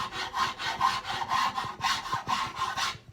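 Auriou hand rasp shaping wood in quick back-and-forth strokes, a close, gritty rasping rhythm of about seven strokes with no speech.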